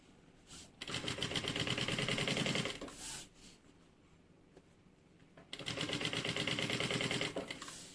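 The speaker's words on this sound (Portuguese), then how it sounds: "Costurando em cima dessa abinha aqui, ó." A sewing machine runs in two fast, rattling bursts of stitching over a small fabric flap on a toiletry bag project, with a short quiet pause between the runs.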